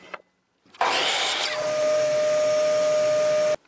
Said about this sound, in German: Zunächst einmal schneiden wir uns von dem Stab 10 cm ab.